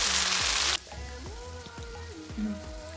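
Tandoori chicken fries in a pan on a stovetop with a loud, dense sizzle that cuts off abruptly after under a second, giving way to soft background music.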